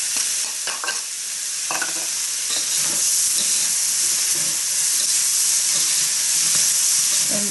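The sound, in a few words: smoked ham hock frying in a pan for fried rice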